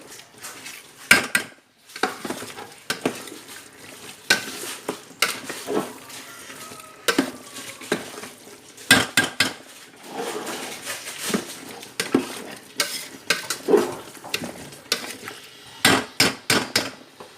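Chicken sukka being stirred in a pan, a spatula knocking and scraping against the metal in irregular bursts of sharp clangs with quieter pauses between them.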